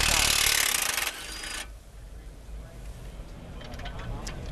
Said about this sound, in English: Next step, we're going to pull the lower strut bolt.